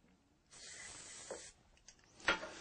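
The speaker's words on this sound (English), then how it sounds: "you'll want to apply a film of a drying lubricant like Shield T9 up" Boeshield T9 dry lubricant is sprayed into a drill chuck in short aerosol bursts: one steady hiss of about a second, then a few shorter puffs and a sharp final spurt, close and quiet.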